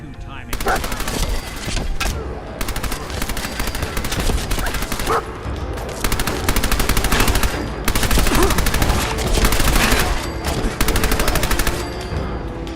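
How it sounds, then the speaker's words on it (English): Rapid automatic gunfire and repeated shots during a firefight in the video game Fallout 4, loud and nearly continuous throughout, with dense crackling volleys and brief lulls. "we keep gunning down more enemies and keep getting more ammo till we found a skinny Malone, and the fight went something like this"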